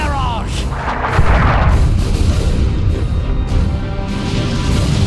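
An artillery barrage in the Dawn of War II game thunders with deep booming impacts and rumbling blasts, as a dense wash of battle noise fills the scene and clashes under a voiced game line.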